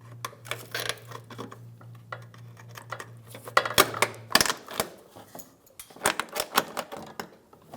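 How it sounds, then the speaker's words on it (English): Plastic bumper retaining clips on a 2007-2017 Ford Expedition being twisted back and forth and popped out: a series of sharp, close plastic clicks and snaps in irregular bursts, with a low steady hum early on. "twist the clip one way and then the other, just going back and forth and removing the clip"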